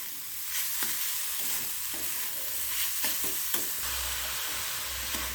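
A spatula repeatedly scrapes and stirs a sticky coconut, sugar and palm pulp filling in a hot pan, rhythmic scraping strokes over a constant soft sizzle, with no voices.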